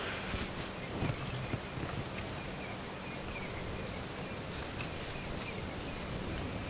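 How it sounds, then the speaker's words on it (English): Wind gusts across an open vehicle on an early-morning African safari drive, a steady broadband rush buffeting the microphone with faint rustling, no voices. "they're still a bit jumpy when the wind really gusts like it's doing now."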